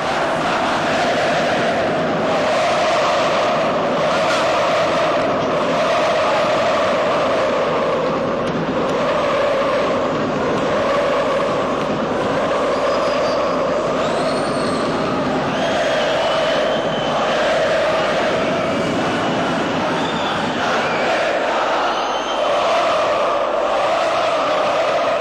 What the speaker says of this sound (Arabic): انا هستاذن زمايلي في الكنترول ينقلوا لنا اصوات هتاف الجماهير